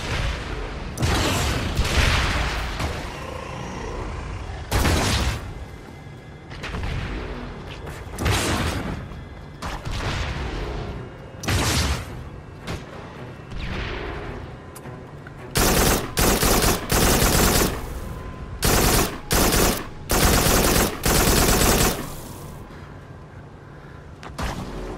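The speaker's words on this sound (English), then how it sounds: "Press the highlighted button to fire the secondary weapon." Loud weapon fire in the VR shooter Farpoint, heard as repeated bursts of rapid shots and heavy booms separated by short lulls, spread across the whole stretch with no voices.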